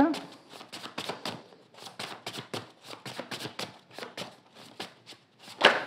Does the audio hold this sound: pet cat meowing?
no